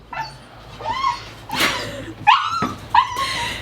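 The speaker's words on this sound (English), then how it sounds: "not only will we have screaming puppies" Puppies outside a workshop whimpering and yipping to be let in: a run of high, wavering whines and sharp little yelps, fairly close and moderately loud, over a low room hum.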